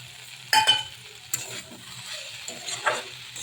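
Spices fry in a pan for a tarkari as chopped tomato goes in, a low steady sizzle broken by a few sharp clinks and scrapes of a stirring utensil.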